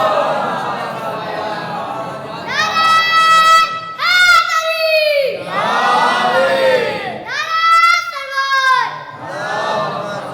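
A congregation at a Jashn Imam Baqir gathering in the Imambara Mughal Sahiba, Lucknow, recites salawat aloud in loud, swelling unison chants, several bursts in succession with short pauses between.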